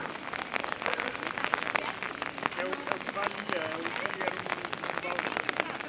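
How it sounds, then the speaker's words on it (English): Rain falls steadily in Seville, a dense hiss of drops pattering on surfaces close by, with faint voices murmuring in the background. "So Seville is happy that they're having rain."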